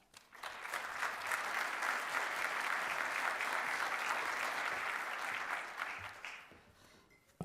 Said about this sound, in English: Please join me in giving a warm round of applause to Mr. Yasir Naqvi